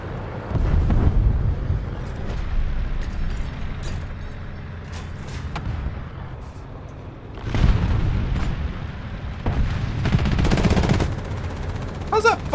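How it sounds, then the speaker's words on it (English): Machine-gun fire from a naval warship battle game, bursts of rapid shots rattling in clusters over a steady low engine rumble, loudest near the start and again in the second half, with occasional voices. "We lost the direction of machine gun!"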